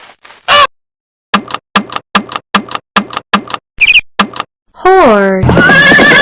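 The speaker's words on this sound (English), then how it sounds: "horse" A horse neighs and whinnies within a farm animal sound sequence, with a run of short evenly spaced sharp bursts, followed by a long descending whinny and a loud close final call, with pauses of silence between.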